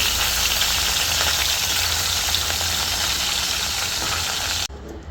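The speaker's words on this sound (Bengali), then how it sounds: "ওর জন্য আবার 2টা মাছ আলাদা করে ভেজে ভুনা করে দেব" Two small hilsa fish frying in oil in a pan give off a loud, continuous sizzling hiss close by that runs unbroken for several seconds, then drops away abruptly near the end.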